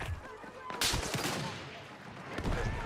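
Sniper gunfire in the Star Citizen video game, with a sharp distant crack near the start followed by scattered fainter shots and rumbling echoes, at low overall volume.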